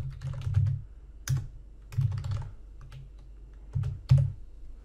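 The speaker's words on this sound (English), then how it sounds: "Then start to type." Someone types on a computer keyboard in short bursts of key clicks, with brief pauses between flurries, close up and without any talk.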